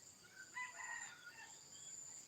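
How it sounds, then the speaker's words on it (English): Rooster crowing from a backyard chicken flock, moderately distant and clear, with a single drawn-out call over faint outdoor ambience and no talking. "We have chickens."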